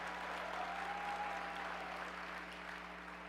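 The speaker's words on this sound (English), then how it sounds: "give them a round of applause" A convention hall crowd at a Texas Democratic Party general session gives a round of applause, steady distant clapping over a low electrical hum that fades gradually.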